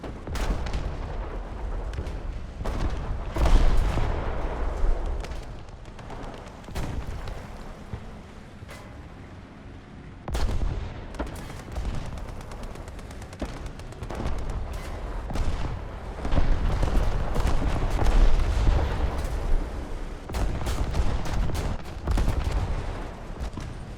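Tank cannon and gunfire in War Thunder around an M4A2 75mm Sherman, with repeated sharp booms and crackling shots at irregular intervals, some near and loud, others more distant, over a rumbling battlefield background.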